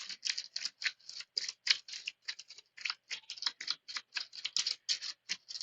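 A deck of Marvel Champions cards is shuffled by hand, a rapid run of crisp, light flicking clicks and patters in quick bursts, close and fairly soft, with no talk.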